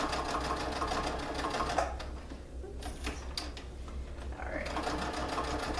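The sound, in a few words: sewing machine reinforcing a tote bag seam stitch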